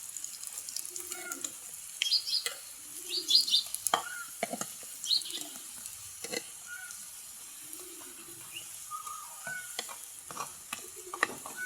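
Spiced flour cakes (pithas) fry in a pan in a steady soft sizzle, with scattered spatula scrapes and brief stirring knocks, while faint birds chirp in the background; no one speaks.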